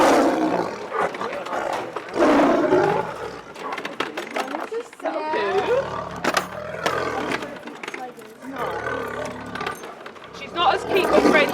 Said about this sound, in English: you might hear a bit more growl and a bit more snarling with her